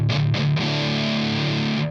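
An electric guitar played through a Boss Hyper Metal HM-3 distortion pedal gives a few loud, heavily distorted chord stabs, the last one ringing out and sustaining for over a second before cutting off.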